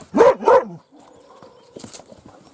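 Dogs at a taiga hut barking on command, two loud close barks in quick succession followed by quieter rustling and faint movement.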